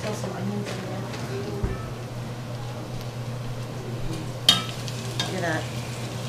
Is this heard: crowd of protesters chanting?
no